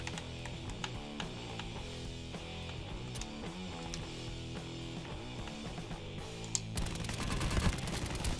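Rapid gunfire in Call of Duty Black Ops 4 on the Nuketown map. Repeated close shots crack in quick bursts over steady game music, ending in a louder, denser burst.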